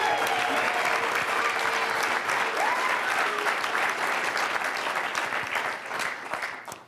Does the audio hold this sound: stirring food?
no